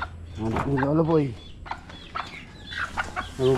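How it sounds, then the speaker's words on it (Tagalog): Hungry farm chickens cluck and call nearby in short, uneven bursts, with some voices mixed in. "Nagugutom na yung manok ni Lolo Boy."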